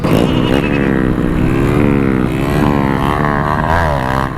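A motorcycle engine revs loudly and close during a test ride, its pitch rising and falling in smooth sweeps as the throttle opens and eases, with continuous wind roar underneath.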